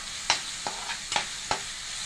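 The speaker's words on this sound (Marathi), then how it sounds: "व्यवस्थित परतून घ्यायचं." Onion and tomato sauté in a pan with salt and turmeric, a soft sizzle broken by four sharp spoon scrapes as the mixture is stirred, close and alone.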